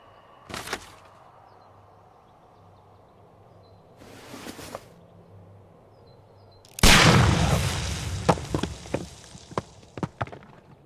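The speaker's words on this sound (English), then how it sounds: "Do you have your pistol? Good. Fire at this package." Pistol fired at a package in a Sherlock Holmes detective game, with a few brief sharp thuds early on, then a loud burst at about seven seconds followed by scattered crackling and debris-like clatter.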